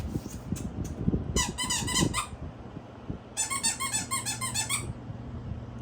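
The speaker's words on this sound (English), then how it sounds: "New squeak sound." A squeaky toy dog squeaks in two quick, close bursts of rapid, repeated squeals during a puppy evaluation, with soft handling thumps between them.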